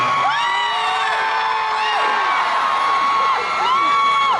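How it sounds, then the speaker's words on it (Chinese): A large arena audience at a Taipei music awards concert screams and whoops in long rising shrieks, loud and continuous, with many voices overlapping. "可以听一下你们的尖叫声在哪里吗？"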